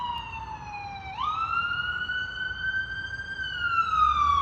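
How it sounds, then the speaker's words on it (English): An ambulance siren wails and sweeps in pitch as it passes close by, loud and clear above faint street background, with no talking. "There's an ambulance going right by here."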